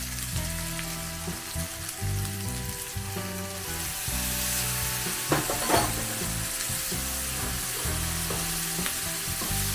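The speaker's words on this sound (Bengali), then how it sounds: "আমি এর মধ্যে দিয়ে দেব আমার যে মশলাটা তৈরি করে রেখেছিলাম সেটা" Masala frying in a pan with ginger garlic paste for a prawn roast, a steady loud sizzle with occasional stirring scrapes and spoon knocks, close up and without talk.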